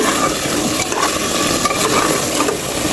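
Beef with whole garlic cloves is stir-fried in a pot. A close, continuous sizzle runs throughout, with soft scraping and stirring movements woven through it.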